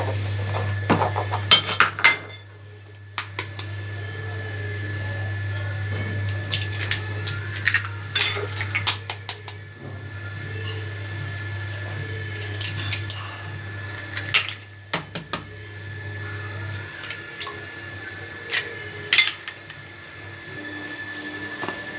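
Cauliflower gets mixed with egg and flour in a bowl for crispy fried cauliflower, with scattered clinks and scrapes of a utensil against the bowl over a steady low hum.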